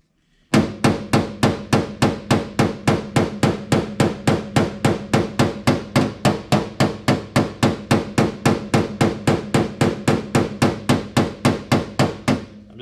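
Quick, light metallic hammer strikes on a car body panel backed by a dolly, steady and brisk at roughly three per second, loud and near after a brief silence.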